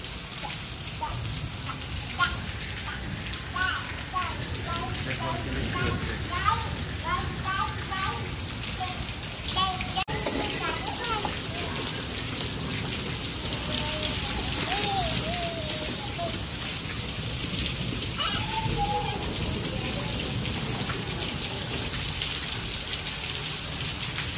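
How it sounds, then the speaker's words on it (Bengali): Heavy rain pours down on flooded Vrindavan in a dense, continuous hiss, with voices talking faintly underneath at times. "দেখুন কি বৃষ্টি হচ্ছে"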